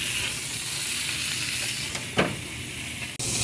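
Burgers sizzle on a gas grill in a steady, close, even hiss that runs throughout, with a couple of brief louder flares of sizzling midway and a short click near the end.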